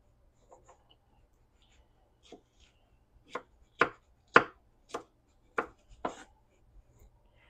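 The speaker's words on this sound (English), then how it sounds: "I'm just going to chop what few peppers we got." A knife chops peppers on a cutting board for chow chow, sharp distinct thwacks in an uneven series of about eight, starting soft and growing louder, close by with no talk.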